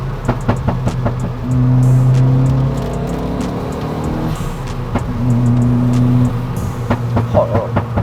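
A Renault Twingo RS turbo with 247 horsepower revs hard, its engine rising in two loud sustained pulls with a droning tone between them, heard close, with talk alongside.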